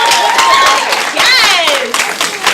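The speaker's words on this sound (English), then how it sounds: "a round of applause for yourself" Audience applause at a Blerdcon convention panel on women of color in sci-fi television, loud broadband clapping mixed with cheering and whooping voices, close and dense for the whole stretch.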